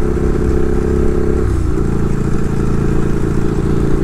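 A Ducati 1098 Streetfighter with about 8,185 miles runs close by, its engine a steady loud rumble with a brief dip and shift in pitch partway through, no talking.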